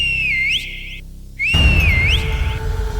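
A ghostly whistle in a dark jungle: two loud, close, wavering tones that dip and then sweep upward. The second sounds over a deep rumbling drone, and no one speaks.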